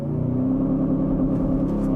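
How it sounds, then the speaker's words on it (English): A 2023 Aston Martin DBX 707 SUV accelerates hard, its tuned engine and exhaust giving a loud, steady, close-up droning roar with a deep rumble throughout, no talking. "Aston obviously tuned the engine of this thing and the exhaust to be a little bit different"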